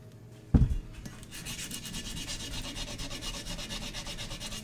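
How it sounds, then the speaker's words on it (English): Steady rhythmic sanding of an aluminum compressor housing, a continuous raspy scraping after a brief knock at the start, close and fairly quiet. "just keep sanding until you don't see the dark spots anymore"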